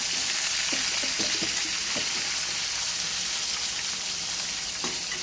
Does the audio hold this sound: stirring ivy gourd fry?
yes